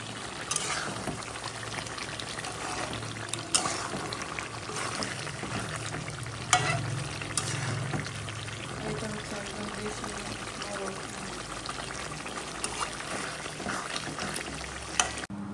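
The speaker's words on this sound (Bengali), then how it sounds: "আর এখানে ডালটাকে একটু গরম করে নিচ্ছি।" Dal warming in a pan on a home stove, a soft simmering bubble and liquid hiss with occasional clinks of a utensil, close but fairly quiet, running steadily throughout.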